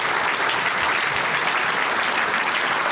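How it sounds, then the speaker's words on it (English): Audience at a city club talk giving a dense, steady round of applause for three seconds, uniform and moderately loud with no voices over it. "How about a nice round of applause?"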